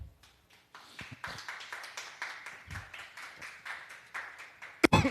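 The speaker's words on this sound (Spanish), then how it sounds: "dale un aplauso al Señor" A church congregation claps along in a steady, rhythmic beat, bright sharp claps filling the room continuously, with a few louder slaps near the end.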